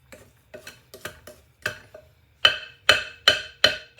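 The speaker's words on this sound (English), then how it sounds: "just scrape down your sides just to make sure everything is combining well" A spatula scrapes down the sides of a mixing bowl of chocolate chip desiccated coconut brownie batter in a series of short scraping strokes, growing louder and sharper toward the end.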